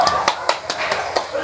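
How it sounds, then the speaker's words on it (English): A classroom group claps for a student group during a demo teaching lesson, giving a brief burst of about six loud, evenly spaced claps close by, with voices underneath. "Let's give them a round of applause."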